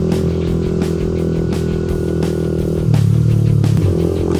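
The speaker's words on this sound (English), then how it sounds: "I actually missed riding my bike and hearing the exhaust through these type of areas." A Suzuki GSXR 125 motorcycle drones steadily while being ridden, its exhaust note holding a constant close hum before rising in pitch and loudness partway through as the throttle opens.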